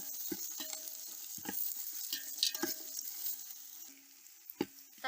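Onions and two green chillies frying in a pan for a village-style rabbit curry: a soft, steady sizzle with a series of sharp spoon scrapes and taps against the pan, close and fairly quiet.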